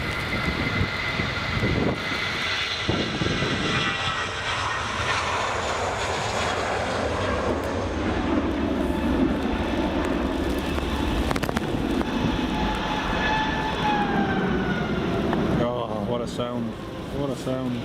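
Rolls-Royce engines on a departing Hainan jet at Edinburgh Airport produce a loud, sustained roar with a high whine running throughout, and the pitch shifts near the end.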